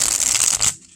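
Soul Cats Tarot cards printed on cardstock riffle in a quick, close shuffle, a dense papery flutter that ends abruptly.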